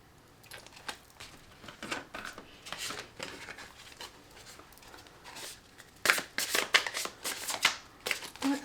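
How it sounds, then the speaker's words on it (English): Tarot cards are shuffled by hand in repeated bursts of quick riffling and flicking, close and fairly quiet, growing busier toward the end. "Let's get some tarot cards."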